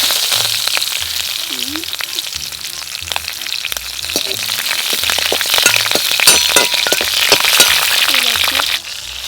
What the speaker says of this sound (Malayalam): ഇപ്പോൾ ഏതാണ്ട് കടുകും ഉലുവയും പൊട്ടിക്കഴിഞ്ഞ് 2 പച്ചമുളകും കരിവേപ്പിലയും കൂടി ഞാൻ അതിലേക്ക് ഇടുന്നു